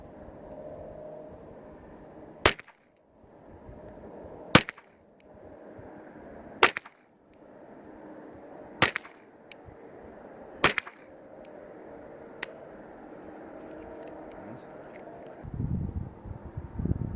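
Ruger 10/22 rifle with no muzzle device fired at 25 yards, five or six sharp, evenly spaced shots about two seconds apart, each a sudden loud crack, outdoors with faint wind between.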